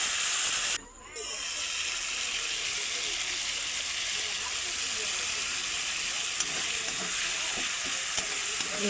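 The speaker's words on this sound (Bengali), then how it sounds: "ভালো করে নাড়াচাড়া করে নিচ্ছি।" Pointed gourd and potato fry in oil with bay leaf, green chilli, chopped tomato and cumin-ginger paste, a loud continuous sizzle and hiss with stirring scrapes, briefly dipping near the start before carrying on steadily.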